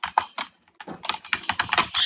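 Quick clicking keystrokes on a computer keyboard, close and fairly loud, a short pause after the first few presses, then a faster run of taps ending in a sustained press.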